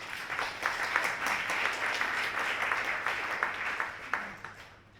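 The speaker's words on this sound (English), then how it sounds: "I'd like us to do a round of applause for Her Excellency." An audience gives a round of applause for a British High Commissioner, a steady mass of clapping hands that slowly fades in the closing seconds.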